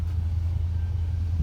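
A 2012 Jeep Grand Cherokee Limited with a 5.7L Hemi V8 and Gibson exhaust tips idles with a deep, steady low rumble close by.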